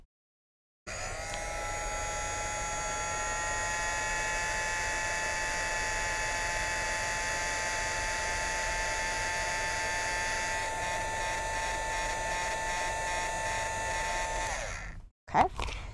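A heat tool melts embossing powder on a handmade Christmas card, giving off a steady, close electric whir with a high tonal whine that runs unbroken for about fourteen seconds before it switches off with a brief clatter.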